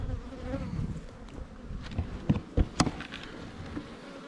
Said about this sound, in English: it is a full box of bees